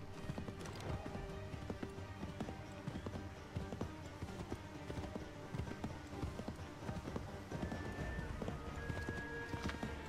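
Horse hooves galloping in Assassin's Creed 3, a quick, steady clip-clop rhythm on hard ground that runs throughout at low volume, with faint game ambience and a brief tonal whine late on.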